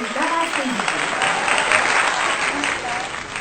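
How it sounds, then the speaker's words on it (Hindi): An audience claps for poet Sarita Bajpayee at a poetry recital, a dense, even wash of applause that holds steady throughout, with faint voices mixed into it. "जोरदार तालियां सरिता वाजपेयी जी के लिए"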